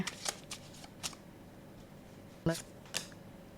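Tarot cards are shuffled in a few quick, crisp riffling bursts separated by brief pauses. The sound is close and moderately loud against a quiet room.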